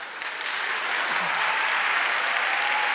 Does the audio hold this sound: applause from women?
yes